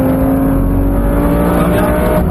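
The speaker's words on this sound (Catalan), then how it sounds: "Passarem a la recta. Gas. Canvia de marxa." A Lamborghini accelerating along a track straight, its engine a loud, close, continuous roar with steady tones over a brief stretch.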